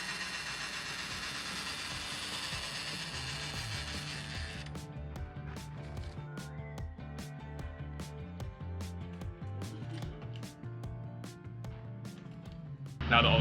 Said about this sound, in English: Now that all the camper jacks are down